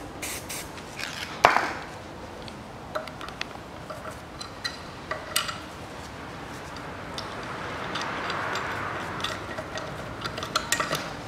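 A spray can hisses lubricant onto a bolt thread while a new mount is fitted on a 1982 Land Rover Series III; there is a short steady hiss among scattered metallic clicks and taps in a quiet workshop.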